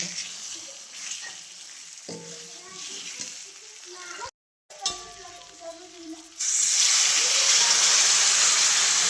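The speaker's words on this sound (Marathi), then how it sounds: "वांगी चांगली मिक्स करून घेतली आणि पाणी गरम करून घेतलेलं ते पाणी टाकून घेतलं" Hot water is poured into an eggplant mixture in a hot pan, setting off a sudden loud, steady hiss of sizzling and steam after quieter kitchen clatter and stirring.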